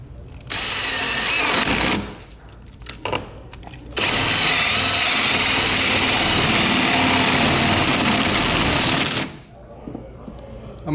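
A power drill with a 1.25 inch paddle bit bores a hole while installing a RAILBLAZA Starport, whining loudly in two sustained bursts, a short one and then a longer run of several seconds, separated by a brief pause.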